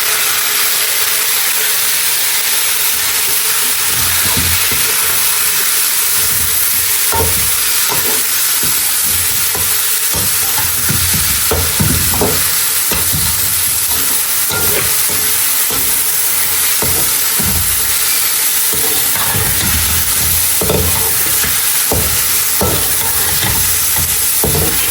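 Chicken sizzles steadily in a hot pan, a loud continuous frying hiss with irregular scraping and knocking as it is stirred, close up, with no talk.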